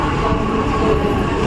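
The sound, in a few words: Virar local train arriving at station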